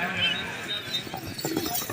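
Horse hooves pounding in a gallop during a tent pegging contest at a spearplay fair, a faint rhythmic clatter of thuds buried under crowd noise and a commentator's loud talk.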